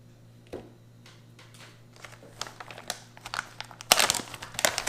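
Crinkling and tearing plastic packaging of a Japanese rescue ration MRE sounds up close, with scattered rustles building to a loud rip near the end.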